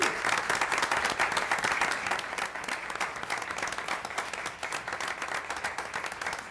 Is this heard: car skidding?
no